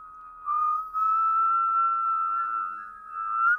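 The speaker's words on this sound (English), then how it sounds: "So keep whistling from mouth," A steady, sustained mouth whistle holds one pitch with a slight waver for several seconds. It is close and clear over a quiet background, with no talking.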